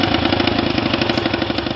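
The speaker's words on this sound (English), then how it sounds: "The Peashooter earned its name from the popping sound made by its exhaust pipe." A 1931 Harley-Davidson Peashooter motorcycle engine chugs with a rapid, rhythmic popping exhaust, loud and close, like fast regular knocks.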